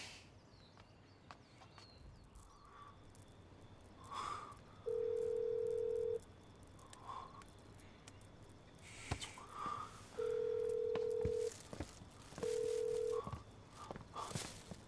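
Unanswered phone call ringing tone: three long flat beeps repeating at steady intervals, each lasting about a second or more, over quiet room background with a few faint incidental sounds.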